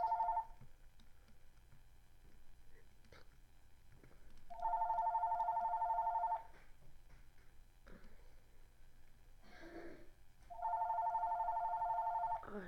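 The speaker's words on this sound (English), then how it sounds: "Oh, shut up, phone." A telephone rings in electronic bursts, about two seconds each, recurring every six seconds or so over the quiet background sounds of a game about cactus warfare, with no talking.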